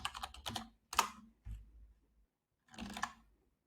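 A computer keyboard is typed on in short clusters of quick, crisp key clicks separated by brief pauses, close and fairly quiet, entering a terminal build command.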